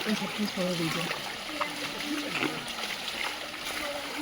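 Footsteps splash through shallow water covering a road on the Andharban jungle trail near Pimpri village, a scattering of close, light splashes and trickles under muffled voices.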